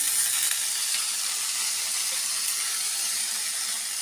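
Broad bean seeds tipped into a pan of frying grated garlic give a steady, loud hiss and sizzle that stays even throughout with no talking.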